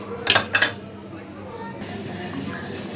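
White bean curry stirred in a metal pot, two quick bright clinks of a spoon against the rim near the start, then a quieter scrape and lid settling, with a voice talking over it.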